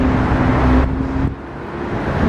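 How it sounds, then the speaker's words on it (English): Traffic on the busy A6 main road, a loud continuous roadway rumble with a vehicle passing close by and fading, leaving a lower steady drone. "Well, it's a very busy road, this. This is the main A6."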